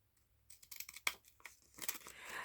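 Small decorative edging scissors snip through paper at close range, a series of short crisp cuts and rustles that grow busier toward the end, with no talking.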